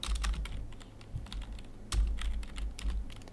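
Fast bursts of key clicks from typing on a computer keyboard at close range, quick uneven taps in short clusters with no talking.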